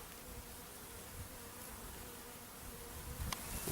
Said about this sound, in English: getting buzzed